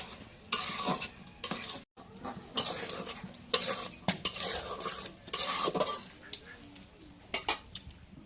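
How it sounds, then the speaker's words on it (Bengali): Fish is stirred into spice masala in a pan, with a sizzling fry beneath repeated scraping strokes and clinks of a metal utensil against the pan, close and uneven. "মাছগুলো দিয়ে দিই। এখন একটু নাড়া দিয়ে দিই।"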